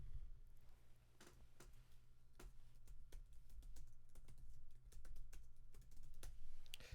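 Fingers type on a computer keyboard in quiet, uneven bursts of small clicks over a low steady hum, with no talking.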